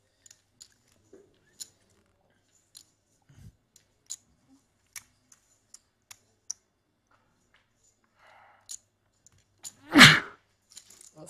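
A single loud sneeze near the end at a poker tournament table in a casino, preceded by sparse light clicks of chips in an otherwise quiet room.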